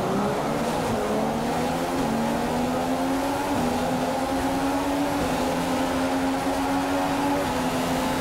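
An F1 race car driven in the F1 2015 game, a loud, sustained high engine whine with gear changes shifting the pitch, steady and alone with no voices.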